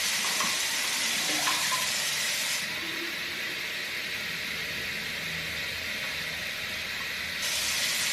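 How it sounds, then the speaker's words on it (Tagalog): Water pours steadily into a cranberry and orange juice drink, a continuous bright hiss that shifts in tone partway through and then returns, close and alone. "Lalagyan ko siya ng tubig."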